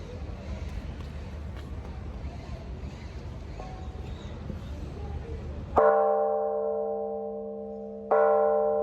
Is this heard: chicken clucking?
no